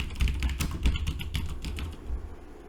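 Steady, close typing on a computer keyboard, a quick run of clicky keystrokes that slows and thins out near the end, with no voices.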